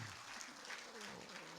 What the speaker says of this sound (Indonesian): Sekali lagi boleh tepuk tangan.